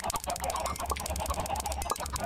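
Minecraft chickens cluck in a continuous, overlapping chatter, loud and close, with no talking.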